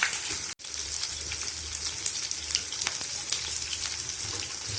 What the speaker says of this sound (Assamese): ইয়াতে বেচন দি মই এতিয়া ফ্ৰাই কৰি ল'ম